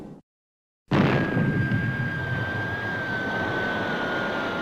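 Fireball XL5 spacecraft retro rockets firing for downward thrust during a touchdown, a sudden loud, steady roaring rush with a sustained whine that follows a brief moment of silence and holds evenly to the end.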